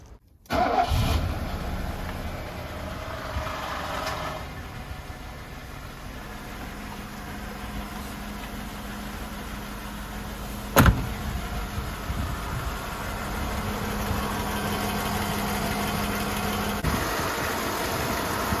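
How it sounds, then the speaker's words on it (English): A Mercedes-Benz 500 SE (W126) engine cranks and catches, then settles into a steady idle; a sharp click interrupts midway, and the hum continues with no voices. "Let's start the car."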